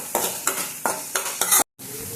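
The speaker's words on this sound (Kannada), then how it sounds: "ಶುಂಠಿ ಬೆಳ್ಳುಳ್ಳಿ ಹಸಿ ವಾಸನೆ ಹೋಗೋವರೆಗೂ ಚೆನ್ನಾಗಿ ಫ್ರೈ ಮಾಡ್ಕೊಳ್ಳೋಣ" Onion, green chili and ginger-garlic paste fry in hot oil in a pan for egg rice, with a steady sizzle broken by about five rhythmic stirring scrapes, close and fairly loud, then a brief silence and the sizzle resuming.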